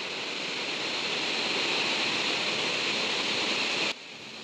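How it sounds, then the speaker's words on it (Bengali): A waterfall beside a hillside Shiva temple pours with a steady, dense rushing roar close by, constant throughout and without voices before it cuts off abruptly near the end. "ঝর্ণার আওয়াজ পাওয়া যাচ্ছে।"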